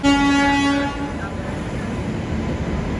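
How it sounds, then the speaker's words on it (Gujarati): The Saurashtra Janata Express from Mumbai to Somnath arrives: its horn sounds loudly at first, then the train rumbles along the rails with steady mechanical noise. "ટ્રેન આવી ગઈ છે"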